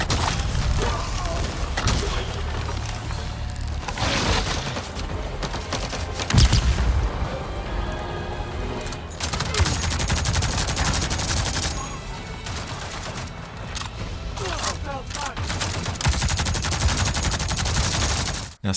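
Rifle gunfire in combat in the Avatar: Frontiers of Pandora video game, rapid bursts and booming impacts layered over a loud, busy battle soundscape with a voice speaking over it.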